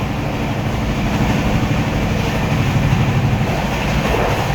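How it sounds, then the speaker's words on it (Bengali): SMVT Bengaluru Superfast Express train running at high speed, heard from on board as a loud, continuous roar with steady rhythmic clatter of wheels over the rails throughout. "মারাত্মক স্পিডে ট্রেন চলছে"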